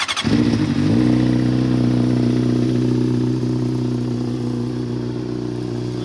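Honda CBR600RR sport bike engine cranking over, catching and settling into a steady, smooth idle close by after sitting with a fresh battery, with no voices.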